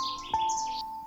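Birds in a garden give a few quick high chirps and short whistled notes, fairly faint over a quiet background with a steady tone running beneath.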